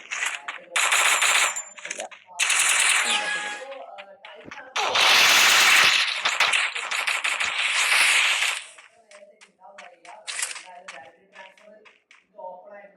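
Rapid bursts of gunfire from the video game Free Fire, loud and crackling, alternating with short pauses and quieter scattered shots toward the end.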